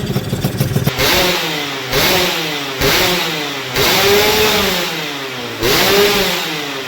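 A motorcycle engine, a Yamaha F1Z-R fitted with RX-King pistons, revs up repeatedly, four or five rising bursts that settle back between them, close and loud with no talking.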